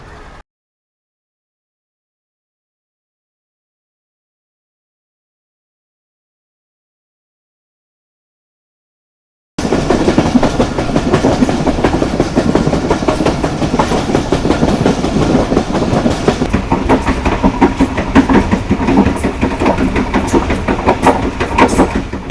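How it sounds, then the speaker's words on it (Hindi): Shah Latif Express pulling out of Kotri Junction in Pakistan: after about nine seconds of silence, a loud, steady rolling rumble of rail wagons sets in with rhythmic clickety-clack over the track joints. "Just under 5 minutes stop over के बाद कोटरी जंक्शन छोड़ रही है शाह लतीफ़ एक्सप्रेस।"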